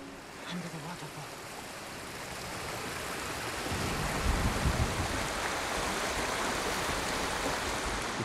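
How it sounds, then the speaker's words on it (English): Rushing waterfall in the video game Ghost of Tsushima, a steady broadband roar of falling water that swells slightly louder midway and holds alone without talk. "Under the waterfall."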